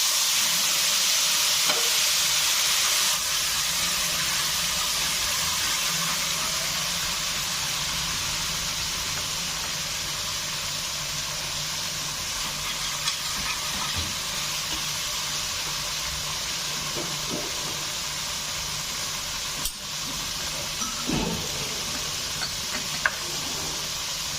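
A mixed spice paste hitting hot oil in a pan for a vegetarian raw banana kofta curry, a loud sustained hissing sizzle that slowly settles, with occasional faint clicks and no voices.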